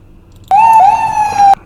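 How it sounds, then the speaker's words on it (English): An ambulance siren sweeps past on a street, a loud, steady wailing tone rising in and cutting off after about a second, with no talking over it. "another ambulance drove by"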